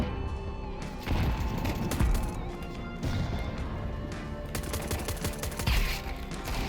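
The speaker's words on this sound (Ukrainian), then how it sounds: "А що ви по мені стріляєте?" Rapid bursts of gunfire from Counter-Strike 2 rattle through a busy in-game firefight, repeated volleys and sharp shots stacking up at close range, loud and nearly continuous across the stretch.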